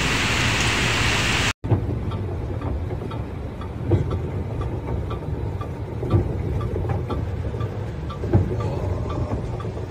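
Heavy rain pours steadily in a severe storm in Germany, a dense, loud hiss of water hitting surfaces with occasional louder thumps and splashes, after a brief cut of silence near the start.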